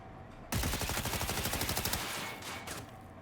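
Rapid automatic gunfire from the game Cyberpunk 2077, aimed at a cyberpsycho: a sudden loud burst of closely spaced shots that runs for about a second and a half and then trails into echoing reverb and scattered impacts.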